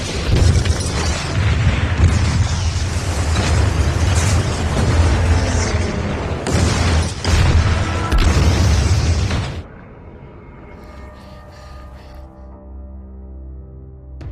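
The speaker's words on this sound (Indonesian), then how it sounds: "Ledakan terjadi di mana-mana." Loud, dense explosions in a film as a fortress is bombarded roar and rumble continuously for several seconds, then cut off to a quieter low drone.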